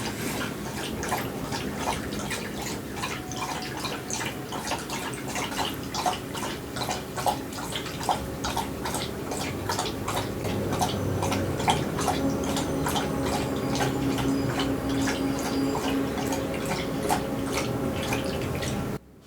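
A pet laps water in a long, steady run of quick wet splashes, close and continuous for about twenty seconds before stopping abruptly.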